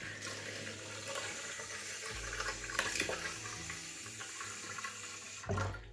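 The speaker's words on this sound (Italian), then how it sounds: "ci mettete l'acqua calda" Hot water runs steadily into a shaving bowl coated with soap, a continuous close splashing flow that briefly swells louder near the end.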